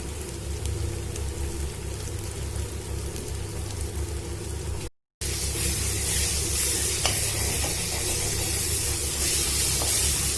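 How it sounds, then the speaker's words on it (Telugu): Ginger garlic paste sizzling with fried onions in a pan for an Andhra-style prawn fry, a steady crackling hiss that grows louder and brighter after a brief cut. "ఉల్లిపాయలు వేగిన తర్వాత 2 స్పూన్ల అల్లం వెల్లుల్లి పేస్ట్ని వేసుకుని వేయించుకోవాలి"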